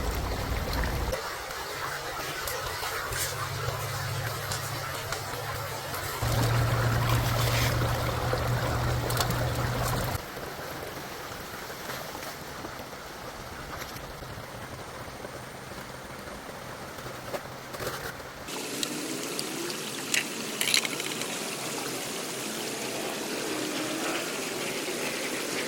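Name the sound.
water running through gold prospecting sluice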